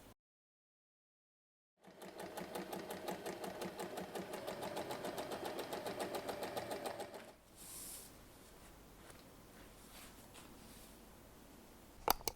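A sewing machine top-stitches the edges of a lining pocket on a fabric pouch, running in a steady rapid close-up rhythm for several seconds before stopping, followed by quiet handling and a faint click at the end.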